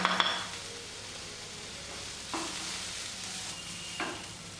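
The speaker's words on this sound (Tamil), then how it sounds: "நல்லா செவஞ்சு வர வரைக்கும் வதக்கிடுங்க" Onions with ginger, chilli powder, garam masala and cardamom sautéing in a pan for fish Manchurian, a low steady sizzle with a few soft stirring scrapes and clinks, close and moderately quiet.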